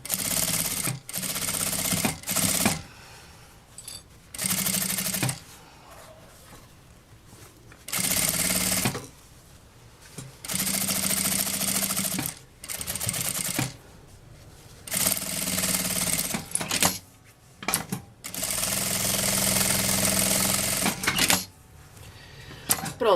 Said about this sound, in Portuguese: Agora eu vou passar uma costurinha rebatendo aqui, pode ser uma costurinha de meio pé de máquina